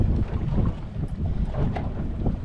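Wind buffets a small boat on the sea off the Maine coast, a continuous close, rumbling gusty roar hitting the microphone, with churning water underneath and no voices.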